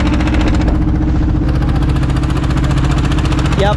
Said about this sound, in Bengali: এই ট্রলারগুলোতে এখন আমরা পার হচ্ছি কর্ণফুলি নদী